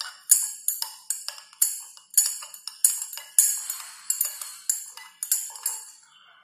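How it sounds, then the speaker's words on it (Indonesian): Repeated bright clinks of a stirring rod against lab glassware as barium chloride is added to a solution, about a dozen sharp, ringing taps in an uneven rhythm, close and fairly quiet with no talking. "Kita tambahkan BaCl2 sambil kita aduk sampai tidak ada terbentuk endapan putih lagi."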